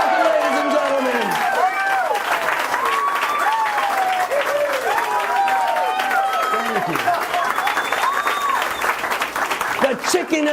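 A live audience at the Magic Castle claps and cheers steadily after a billiards trick shot, dense applause throughout with excited voices and whoops rising over it.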